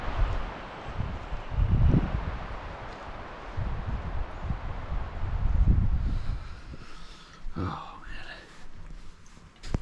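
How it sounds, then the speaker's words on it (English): Wind gusts at night outside an Astro camper van in the mountains, with low buffeting surges that rise and fall in waves and light rustling, plus a faint higher whine near the end. "It was a cold, windy, rainy night, but slept okay."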